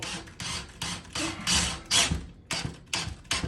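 A screw being driven into a wooden board during a corner tape repair, heard as a series of about eight close, gritty whirring bursts with short pauses between them.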